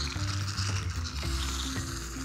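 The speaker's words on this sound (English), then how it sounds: "And now the shaving foam." Shaving foam sprays from a pressurised can during a children's foam experiment, giving a continuous hissing rush that lasts the whole stretch with no talk.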